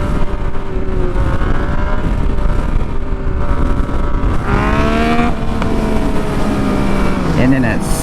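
A Yamaha FZ-09 motorcycle climbs in pitch as it revs hard through a wheelie in an open lot, a steady engine whine rising and shifting, with wind buffeting and a rider talking over it.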